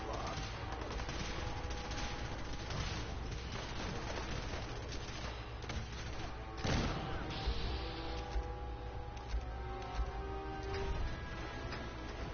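Cannon broadside fire in the video game Fallout 4 comes through as a dense, steady barrage of booms and gunfire. One heavier blast stands out in the middle of the continuous battle noise.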